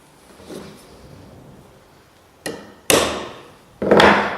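Three sharp hammer blows on a centre punch marking a metal lathe workpiece clamped tight in a vise, spaced about half a second apart and ringing briefly, after a quiet stretch.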